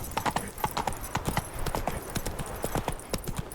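Roach the horse galloping in The Witcher 3: Wild Hunt, rapid rhythmic hoofbeats pounding close and steady for the whole stretch, with no voices over them.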